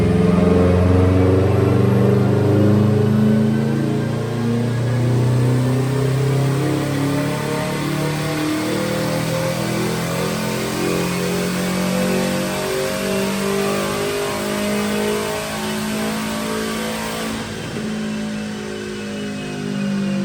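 A Subaru STI engine revs hard during a dyno pull, a loud turbocharged roar climbing steadily in pitch, then cutting off near the end and settling to a lower drone.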